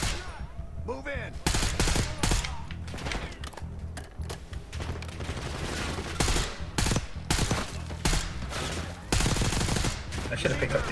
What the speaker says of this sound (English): Hostiles, open fire.